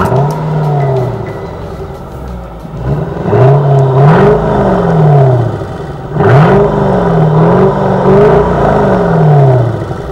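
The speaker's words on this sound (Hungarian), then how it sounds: "az pedig a picit magasan rezgő, érces hangja a kipufogónak" A Mercedes-AMG V engine revs up and down repeatedly with a metallic, raspy exhaust tone, loud and close, rising and falling in pitch.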